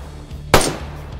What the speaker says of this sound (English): I'm going to start shooting some zombos